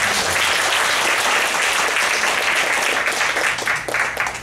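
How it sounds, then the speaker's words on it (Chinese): Steady, close audience applause welcoming a speaker at a talk or seminar, a dense even clapping wash lasting throughout with no pause. "然后再来就是我们现在热烈掌声欢迎玉哲跟我们讲一下台湾的经验啊。"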